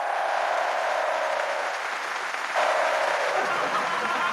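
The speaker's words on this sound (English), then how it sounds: "Clap for the president." An audience claps for the president in a continuous, fairly loud spread of applause that holds steady throughout and briefly swells near the end, with no clear talk on top.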